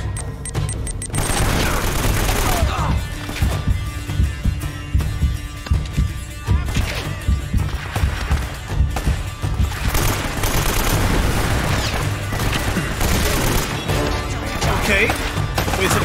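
Heavy gunfire and explosive booms in the action game Uncharted: Drake's Fortune, set in a drowned city, rattling almost continuously with crashes and impacts while a voice talks over it now and then.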